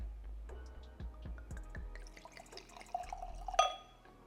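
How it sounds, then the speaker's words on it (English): White wine pours and trickles into a glass, beginning with a few distinct drips and splashes before a steadier stream, quiet and close. "I gotta pour me up a little bit of white wine"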